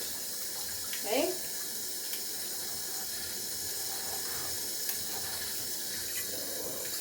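Hot water runs steadily from a tap into a sink while crusty artist paintbrushes are cleaned, giving a continuous close hiss with a brief splashing clatter near the start.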